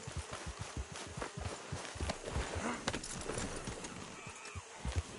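Hooves of a horse trotting in Red Dead Redemption, a quick, regular clip-clop beat of close, moderately loud footfalls across the whole stretch.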